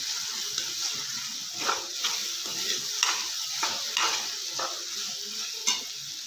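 Vegetable macaroni pasta being stirred in a pan, a steady run of scraping strokes and soft sizzling that repeats every second or so, close and fairly quiet, with no voices.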